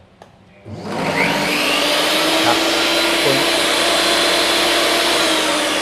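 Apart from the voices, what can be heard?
60-litre dust extractor vacuum running with Bosch table saw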